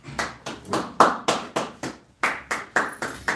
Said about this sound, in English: Go ahead and clap it up.